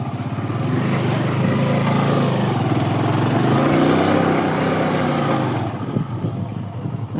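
A motorcycle riding through puddles on a village road, its engine droning steadily up close with a rising then easing tone, and a splashing rattle near the end.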